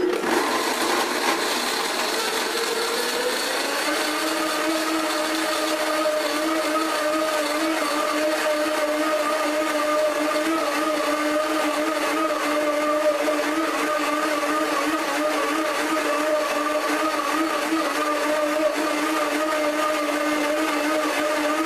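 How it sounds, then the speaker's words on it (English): A Blendtec Total Blender running on high, a loud steady motor whine that rises in pitch over the first few seconds and then holds a sustained, even roar with no talking. "Here's the Blendtec Total Blender."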